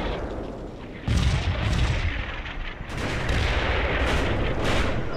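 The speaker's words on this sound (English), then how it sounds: "the Soviets would open up with an artillery barrage" An artillery barrage in a Cold War tactical war video game, a dense rumble of distant booms and overlapping blasts that swell and roll on without pause.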